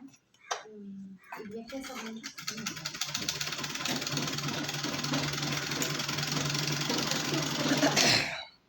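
A domestic sewing machine runs continuously, stitching piping onto fabric with a steady mechanical whir after a few brief taps and handling noises at the start.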